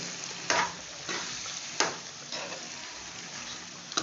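Boiled cowpeas being stirred into a brinjal thokku in a pan, with soft scraping stir strokes at a slow, uneven rhythm over a low background sizzle, no talking.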